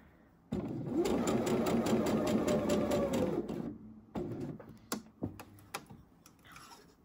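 A sewing machine stitches a tank top seam: a steady, fast mechanical whir for about three seconds, then a few short, separate bursts of stitching close by.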